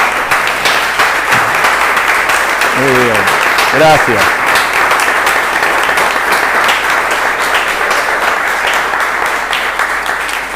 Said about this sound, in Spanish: A todos ellos les vamos a decir gracias, como lo hacemos los argentinos, con un fuerte aplauso